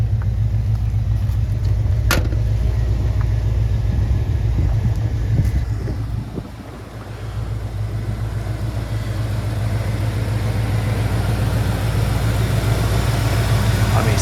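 A 1989 Ford Bronco's 5.8L engine idles steadily, a close, even low rumble that runs without a break the whole time, dipping briefly once.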